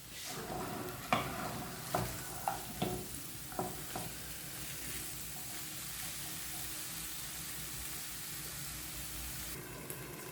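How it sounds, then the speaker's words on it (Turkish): Peppers and potatoes frying in a pan for an omelette give a steady soft sizzle, with several sharp stirring scrapes early on, then an even hiss that continues alone. "Kapya biberini de ilave ettim. Kavrulmaya başladı."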